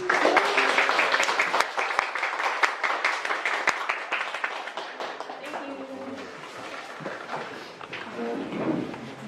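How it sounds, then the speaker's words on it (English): An audience at an animal rights talk applauds after the Q&A, a dense round of clapping that thins and fades, with voices starting to talk over the tail end. "let's have one more round of applause to everybody for answering our questions"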